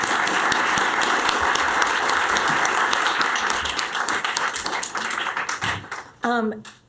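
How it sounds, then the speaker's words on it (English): Loud, dense applause from a large crowd at a city council candidate forum fills the space and gradually thins out, with a voice emerging at the very end. "Let's give them a round of applause."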